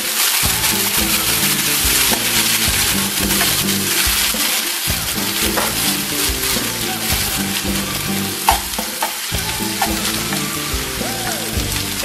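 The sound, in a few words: diced tomatoes frying in pan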